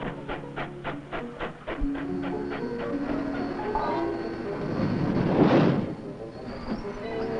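A freight train rolls steadily along the tracks with rhythmic clacking of wheels over rail joints, swelling into a louder rushing pass near the end.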